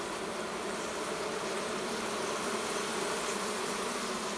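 A dense swarm of bees buzzing around brood comb at a swamp house, a steady close drone holding continuously throughout.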